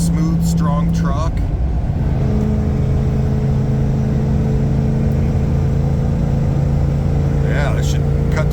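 A Ford truck with a 460 EFI V8, fitted with a stage 1 cam kit, cruises on the highway with a steady low engine drone and road rumble inside the cab while someone talks over it.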